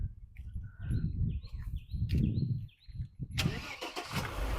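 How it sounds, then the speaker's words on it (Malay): A 1993 Mercedes-Benz E280 engine cranks and catches, settling into a low idle, with a few bird chirps scattered above. "Sekejap kita minta owner start. Kita nak dengar bunyi enjin dia."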